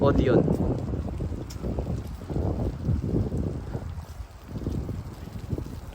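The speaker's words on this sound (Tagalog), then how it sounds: "Sarap ng hangin" Wind gusts roar against the microphone in uneven waves, with a faint voice briefly heard at the start.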